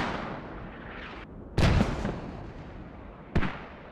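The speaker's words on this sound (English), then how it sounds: "The mortars hit" Mortar shells land in the video game Squad, two heavy muffled blasts a couple of seconds apart over a low rumbling battlefield background, heard from a moderate distance.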